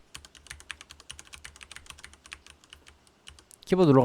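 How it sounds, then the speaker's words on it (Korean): Rapid, steady clicking of a computer keyboard being typed on nearby, ending as a voice starts speaking. "이런 식으로 게임을 제가 키보드를 눌러가면서"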